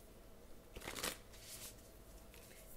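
Tarot cards being shuffled by hand make a quiet, close riffle of paper, with a brief denser flurry near the middle and softer rustling before and after.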